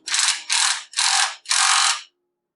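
Four quick bursts of a ratchet wrench tightening the bolt on a fuel sending unit ground strap, loud and close, each rasp lasting about half a second before stopping.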